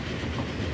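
A train running in the video game Transport Fever: a loud, dense rumble of rolling wheels and engine noise, continuous and close for a brief moment.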